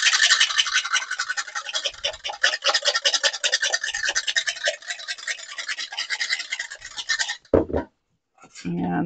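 Two large eggs are beaten in a bowl with a fork or whisk, a rapid, steady scratchy clatter lasting several seconds before it stops, followed by brief talk.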